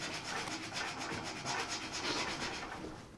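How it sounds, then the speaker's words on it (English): Steady back-and-forth rubbing of an abrasive against the powder-coated edges of a 1978 Honda motorcycle part, a close, continuous scratchy hiss with a regular stroking rhythm and no talk. "just gently rub off the edges."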